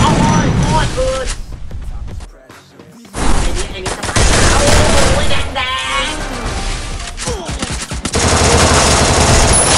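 Gunfire in Free Fire, loud rapid bursts of automatic shots and cracks nearly nonstop, with a brief lull midway, while a player talks excitedly over the shooting.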